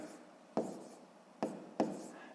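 A pen scratching on paper while working out a sixth-grade maths exercise, three short quiet scraping strokes spaced unevenly, close and soft with no talk over them.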